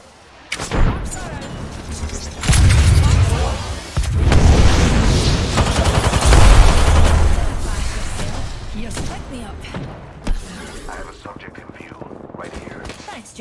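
Grenade blasts and bursts of gunfire in the video game Apex Legends, loud booms and rapid shots crowding together through most of the stretch, with a voice speaking over the battle.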